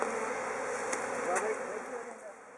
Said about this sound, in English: Look at that mass of bees.